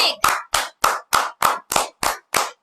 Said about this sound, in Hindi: जोरदार तालियां एक बार ऋत्विक के लिए।